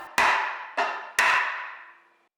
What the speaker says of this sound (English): It's a tight fit on the dowels, so it'll need to be tapped into place with a soft hammer.